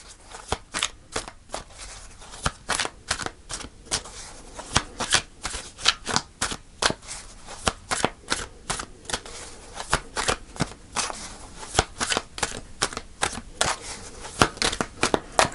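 Tarot cards are shuffled by hand for a weekly reading, a long run of rapid crisp riffles and snaps that are close and steady throughout, with no talk.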